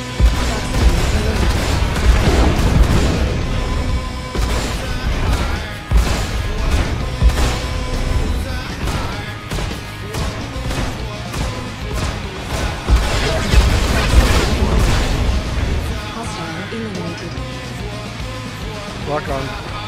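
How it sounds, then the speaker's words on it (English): Missile fire and explosions in a Star Citizen Arena Commander dogfight, dense loud blasts and crashing impacts over engine roar and music, with repeated bursts throughout and cockpit voice callouts in between. "Firing missile."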